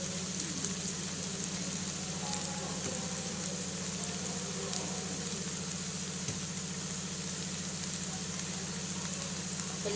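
Garlic cloves frying in a pan of okra curry (bendakaya fry) give a steady, even sizzle over a low, constant hum, with no voices.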